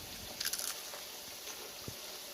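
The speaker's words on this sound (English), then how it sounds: "Listen to this crunch." A bite into a homemade fried yellow squash sandwich with mayonnaise gives a quiet, close burst of crisp crunching over about a third of a second, followed by a few faint chewing sounds.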